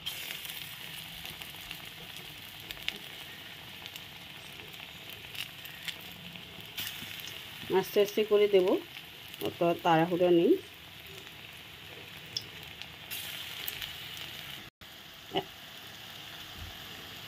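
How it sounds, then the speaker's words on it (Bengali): Banana flower fritters frying in hot oil give a steady low sizzle throughout, with a voice speaking briefly over the middle. "তেল গরম হয়ে গেছে, আমি আস্তে আস্তে মোচা বড়াগুলো দিয়ে দিচ্ছি।"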